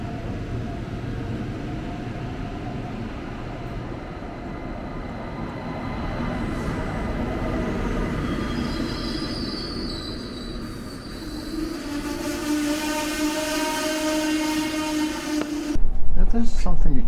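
Interior of a German train on New Year's Day, heard from a compartment: a steady rumble of wheels on track with rising squeals and tonal whines toward the end, and a sharp clatter in the last second.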